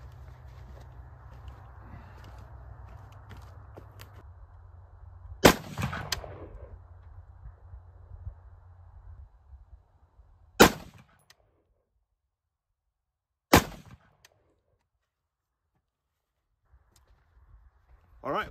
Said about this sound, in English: So I'm gonna shoot one group, and hopefully it'll be a good group sighted right in.